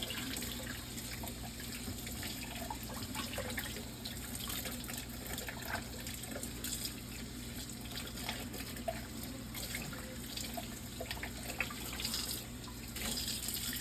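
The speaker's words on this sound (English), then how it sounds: "I'm just going to rinse off the cork with some hot water" Hot tap water runs steadily from a faucet, rinsing a piece of cork for a crested gecko enclosure, a soft continuous splashing hiss with no voices.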